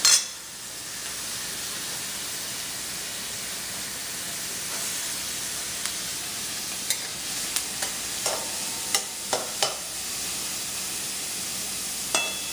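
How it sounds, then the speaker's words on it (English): Onions fry in a small amount of oil for Punjabi karhai chicken, a soft steady sizzle that runs on alone until a series of light clicks from stirring sets in toward the end. "try to put as little oil as possible to fry these onions."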